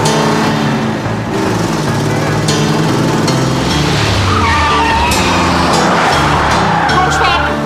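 A stolen car takes off with its engine roaring loudly and tires skidding and squealing, the noise steady and close throughout.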